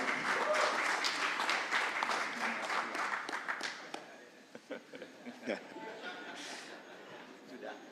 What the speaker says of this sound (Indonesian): Kita berikan tepuk tangan yang meriah buat Pak Ganjar Pranowo dan Prof. Mahfud MD.